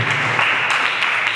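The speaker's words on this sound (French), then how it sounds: "Acclamons cette fois notre maman avant." A church congregation applauding, a dense, loud wash of clapping from many hands filling the room throughout.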